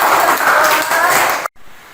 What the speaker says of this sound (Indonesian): Yuk tepuk tangan untuk Dennis, hebat ya.